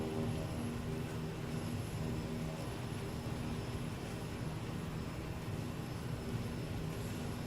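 A Kodiak K100 aircraft engine departing a runway in a flight simulator game, a steady, loud droning hum that holds constant throughout with no voices.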